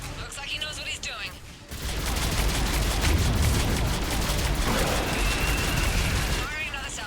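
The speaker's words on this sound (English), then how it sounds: "Missiles are hot. Missiles away." Missile salvo launching in Mass Effect 3, a sustained roaring barrage of rapid firing and explosions that swells loudly after a brief lead-in, with radio chatter from voices around the action.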